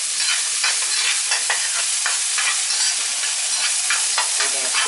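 Egg for a breakfast burrito fries in a pan with a loud, continuous crackling sizzle and rhythmic stirring scrapes, close up with no talk.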